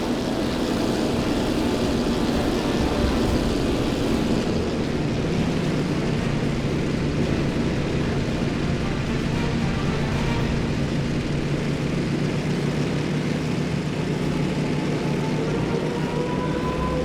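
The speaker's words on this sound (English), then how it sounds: "Let's see if you can actually handle your plane now." In the WW2 game Damage Inc., a low-flying propeller plane gives a constant, dense engine roar with a faint steady drone under it, sustained at even loudness throughout. No one speaks.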